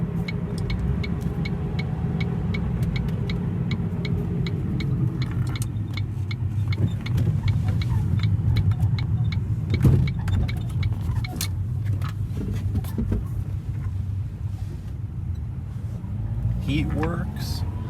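Ford Focus engine running inside the car after motor mount replacement, a steady low hum and rumble throughout, with people talking over it.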